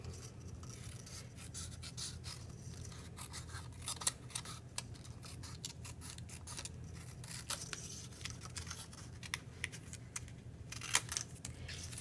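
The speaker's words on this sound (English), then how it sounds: "just cut across and then cut down" Scissors snip across and down through paper along pencil marks while making a Halloween pencil holder, with a steady run of close, soft cutting rasps and small crisp clicks over a low background hum, no talking.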